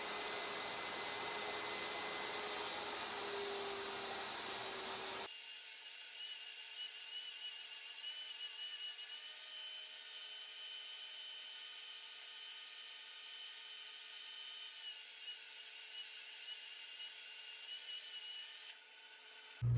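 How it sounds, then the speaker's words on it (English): A table saw ripping plywood into 6-inch strips while building shop storage, a steady loud whining drone holding for most of the stretch after a brief start, with no talk. "We're gonna rip down to 6 inches on the table saw so we can go to the next step."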